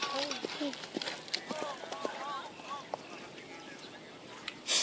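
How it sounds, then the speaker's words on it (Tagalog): Horses wearing horseshoes running, with a quick irregular clatter of hooves under near-constant overlapping voices and outdoor background noise. "Nagtatakbuhan po. Nagwawala yung kanyang kabayo."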